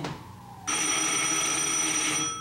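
A telephone bell rings loudly and steadily after a short lead-in, one continuous close ring that holds for about two seconds.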